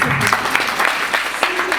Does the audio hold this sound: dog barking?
no